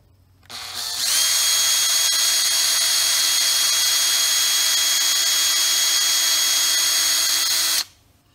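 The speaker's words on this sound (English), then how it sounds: "I use a smaller drill bit just so I can get a good center on it" A power drill with a small bit spins up sharply, drilling out the metal idle mixture screw plug on a GY6 150cc scooter carburetor, runs at a steady high whine for several seconds, then cuts off abruptly; loud and close.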